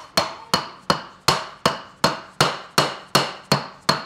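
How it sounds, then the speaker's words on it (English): Hammer blows drive the motor axle out of a Begode EX30 electric unicycle with a C40 motor: eleven sharp, loud metallic strikes in a steady rhythm about every third of a second, close up, with no talk. "Go hammer the other side."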